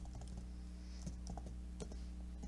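Keys clatter on a computer keyboard in short irregular bursts during code entry in Roblox Studio, fairly faint over a steady low hum, with no voices.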